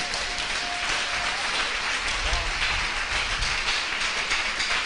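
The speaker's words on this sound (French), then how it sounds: "Acclamons pour Jésus-Christ." A church congregation bursts into sustained applause that fills the whole stretch, dense and steady, with no pause or talk over it.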